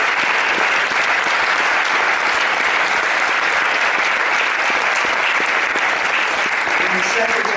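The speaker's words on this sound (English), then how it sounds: "So I want to give a round of applause to Eric." Audience at a Band of Brothers Q&A panel during a Normandy event giving the translator a round of applause, loud, close and sustained clapping that keeps steady intensity for over seven seconds.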